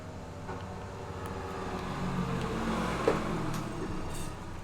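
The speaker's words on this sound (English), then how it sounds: "The cars are really fucking loud outside tonight." Steady traffic noise from outside, a low continuous rumble of cars passing at a distance with no talking.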